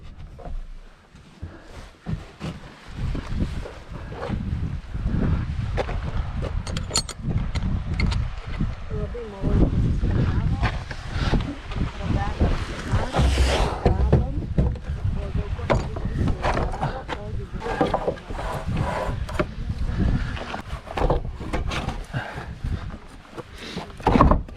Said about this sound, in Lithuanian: Nu, vėjukas pučia gerai.